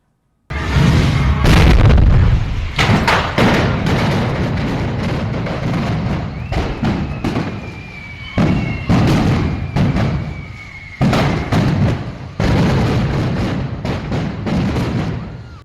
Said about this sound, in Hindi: वो सिलेंडर फट पड़े, जोरदार धमाके हुए, आग लग गई